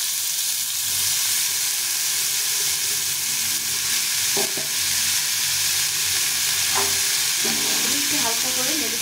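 Cabbage leaves frying in hot oil in a pan, a continuous loud sizzle with a few brief stirring scrapes, heard alone without talk.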